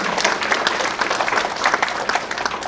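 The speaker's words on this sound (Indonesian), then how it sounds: "Kita kasih aplaus lagi buat para pembicara kita." An audience at a corporate client gathering applauds the speakers, a dense continuous burst of clapping from a crowd, close and fairly loud throughout.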